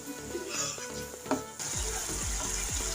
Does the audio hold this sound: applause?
no